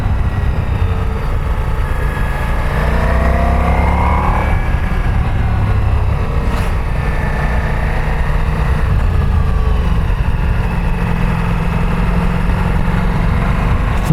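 Ducati Multistrada V4S motorcycle engine pulling hard in third gear on an Alpine mountain road, a steady rising drone with a broad hum of wind and road noise, no talking.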